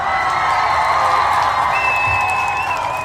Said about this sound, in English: I want to give all of the Ujamaa babies a round of applause.